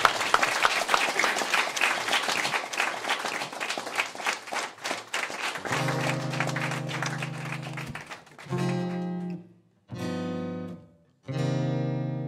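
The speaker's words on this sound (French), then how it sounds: "c'est sous vos applaudissements" A television studio audience applauds an artist, with loud, crisp clapping over the first half that gives way to sustained musical tones in choppy bursts separated by brief gaps.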